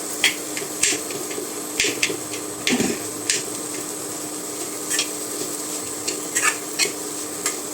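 Jaggery being stirred into a sweet filling in a pan, with a faint low sizzle under sharp repeated metallic scrapes and taps of a spoon against the pan in an uneven rhythm.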